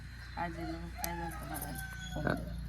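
Chickens clucking and crowing close by in a home setting, a few short bird calls standing out over a steady low hum, with faint voices in the background.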